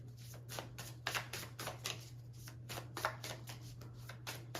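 Tarot cards shuffled by hand in a run of quick papery riffling bursts, close and fairly soft over a steady low electrical hum.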